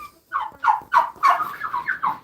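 Several close fowl calls in a quick series of short throaty clucks, fairly loud and rhythmic, with no talking.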